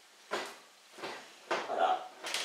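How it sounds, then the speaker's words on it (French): An oven door is pulled off its hinges, giving four separate clunks and rattles of metal and glass at uneven intervals, close by, with faint room noise between them. "on vient juste tirer dessus"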